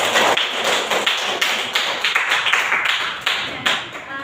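Students in a classroom clap their hands together, a quick, uneven run of sharp, close claps from several people, lasting a few seconds.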